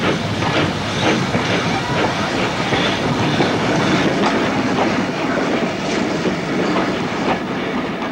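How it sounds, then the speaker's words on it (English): A two-coach push-pull steam train, hauled by an Ivatt 262 tank engine, departs Ketton and Collyweston station, with steady loud rolling rumble, steam hiss and clickety-clack of wheels filling the whole stretch without pause. "A two-coach push-pull train departs."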